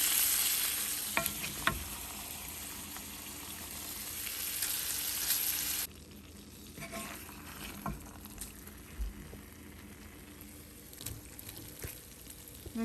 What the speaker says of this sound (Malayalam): ഇനിയാണ് നമുക്ക് എണ്ണയിലിട്ട് ഇന്നത് നന്നായിട്ട് ഇങ്ങനെ ഇളക്കി